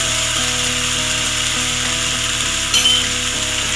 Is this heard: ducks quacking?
no